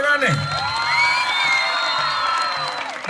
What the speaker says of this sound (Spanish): El aplauso para la dama.